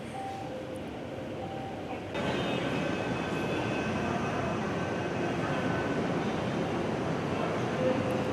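A Mumbai Metro Line 9 or 2-B train rumbles along with a constant loud roar that steps up partway through, faint tonal whines and beeps riding over it.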